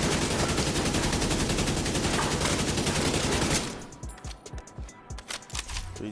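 Sustained automatic gunfire pours into a test dummy in The Division 2, a dense loud unbroken stream for several seconds before it breaks into scattered separate shots.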